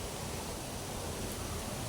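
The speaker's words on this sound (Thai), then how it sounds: "เสียงน้ำน้ำตกมันไหลอยู่ครับ" Steady broadband rush of water falling and flowing at Bo Wi Waterfall, a constant close wash of noise with no breaks and no voices.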